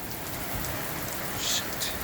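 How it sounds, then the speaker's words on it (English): Heavy rain pours steadily at night in a storm, a dense continuous hiss of water falling on surfaces, close and loud throughout with no voices. "it's pouring bad, big time"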